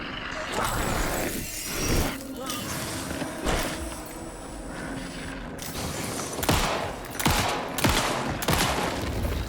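Gunfire in the video game Alan Wake II: a handful of sharp shots spread irregularly through a dense, busy game soundscape, some louder and closer than others, with a voice talking intermittently.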